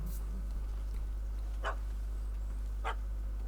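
Two short, distant barks from a dog in The Witcher 3 sound about a second apart over a steady low hum of game ambience.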